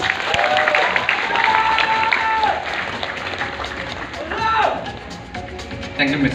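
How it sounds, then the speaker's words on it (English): Audience applause and cheering at a Mr. & Miss Freshers crowning ceremony at Nagaland University, a dense crowd sound filling the room at steady loudness, with overlapping voices and stage audio mixed through it. "Can we please give a big round of applause?"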